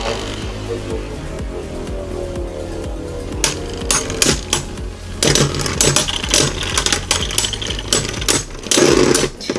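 A Beyblade Dread Hades top spins in a battle stadium with a steady whirring buzz, then scrapes and clatters in sharp, rapid metallic bursts as it strikes and grinds against the arena.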